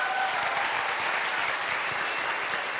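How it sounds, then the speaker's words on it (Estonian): A school audience at a student performance competition applauds the introduction of a jury member; steady, dense clapping from a full hall, moderately loud and unbroken from start to finish. "Teeme kohe aplausi."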